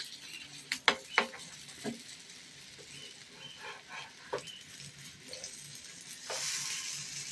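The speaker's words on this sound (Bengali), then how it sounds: "যেগুলো আছে সেগুলো ভেজে নিচ্ছি।" Eggless vegetarian toast frying in a pan, a soft continuous sizzle with a few sharp clinks and scrapes early on and a louder hiss swelling near the end, fairly quiet overall.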